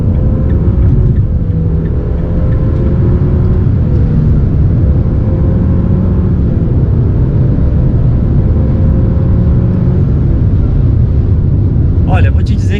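Renault Oroch 2023 pickup with a 1.3 turbo engine and automatic gearbox cruising on a highway, its loud, constant engine drone blending with road and wind noise in the cabin.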